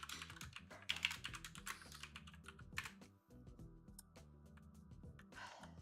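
Fingers type steadily on a computer keyboard nearby, making rapid clicking keystrokes in uneven bursts with a brief pause in the middle.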